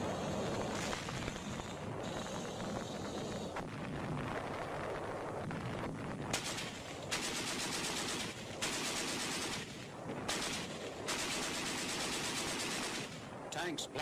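Wartime battle at Sugarloaf Hill on Okinawa, with tanks and Marines firing: continuous dense bursts of machine-gun fire and booming shots, distant and crackly, forming an unbroken roar throughout.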